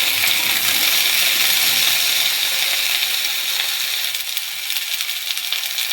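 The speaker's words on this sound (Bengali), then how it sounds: "সজনের ডাঁটা, আলু আর কচু ভেজে নেব" Drumstick pieces, potato and taro fry in a pan with a steady, close hiss of oil that holds loud throughout and eases slightly near the end, with no talking.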